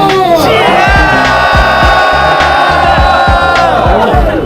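Crowd at a winter marathon event shouting in unison on cue, a loud, sustained mass roar with rhythmic beats running through it, close and full for the whole stretch.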